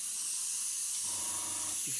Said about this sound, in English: I do that kind of thing and just spray up to the edge